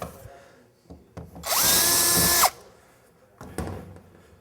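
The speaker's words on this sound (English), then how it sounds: "What we're doing is we're putting 1/4 inch holes in it." A power drill bores quarter-inch rivet holes in car body metal with one loud whirring burst of about a second, its pitch steady and then dropping as the bit cuts through. Quieter handling clatter and knocks come before and after.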